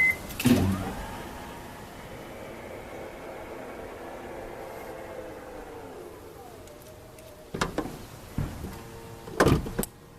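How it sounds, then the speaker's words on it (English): A 2015 Toyota RAV4 Limited power tailgate closing at the press of a button: a steady motor whine runs for several seconds, then a few sharp thuds and clicks as it latches shut, close and without talk. "You do have a button here to actually close the trunk."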